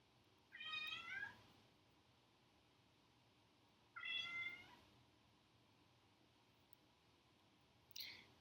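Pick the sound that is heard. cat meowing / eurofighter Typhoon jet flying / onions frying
cat meowing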